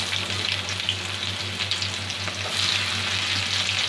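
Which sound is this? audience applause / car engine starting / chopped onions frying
chopped onions frying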